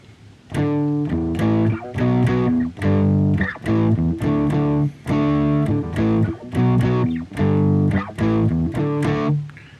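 Electric guitar played with palm-muted downstrokes in a driving rhythm, through a distorted effects tone: tight, chugging chords in steady bursts with short gaps between phrases, loud and close with no talking.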